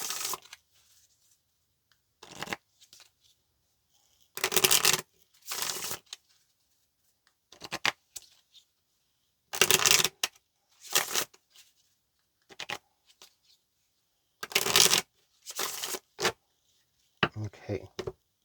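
Tarot advice cards shuffled by hand in repeated loud riffling bursts with quiet gaps between them, nearby and clear, with brief speech mixed in among the bursts.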